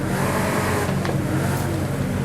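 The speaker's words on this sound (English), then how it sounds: "A racing V12." Racing V12 engine revving in the Forza Horizon 5 driving game, a loud, steady, dense engine roar that holds constant throughout with no talking.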